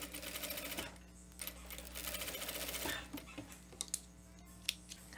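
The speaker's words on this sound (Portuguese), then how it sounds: "aqui eu posso vir até bater um pesponto aqui, ó. Uma costurinha de segurança" A sewing machine stitches a viscose jumpsuit with a quick, steady whirring run of needle strokes, a pause, then a second run, followed by scattered soft clicks of handling the fabric, close and quiet.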